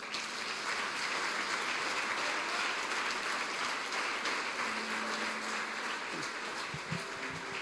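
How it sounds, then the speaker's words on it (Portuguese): A church congregation gives sustained, dense applause that fills the room evenly for several seconds, with faint tonal music or voices creeping in near the end. "Você pode aplaudir Ele?"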